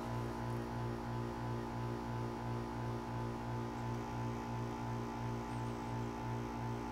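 A Mastercool refrigerant recovery machine runs its purge cycle after pulling R-134a from a car, giving a faint, steady electrical hum with an even, rapid pulsing throb underneath, with no voices.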